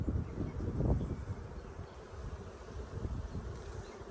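Honeybees in an open hive during a frame-by-frame inspection, a close, dense buzzing that swells early and then settles into a steady hum, with no speech.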